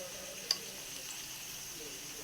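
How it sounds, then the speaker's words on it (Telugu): Onions and green chillies fry in a pan with a quiet, steady sizzle and a single sharp click near the start. No voices. "తర్వాత ఉల్లిగడ్డలు పచ్చిమిరకాయలు వేయాలి."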